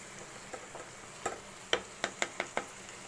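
Capsicum sautéing in a pan, a soft steady sizzle under a series of sharp spoon or spatula taps against the pan, several in quick succession toward the end.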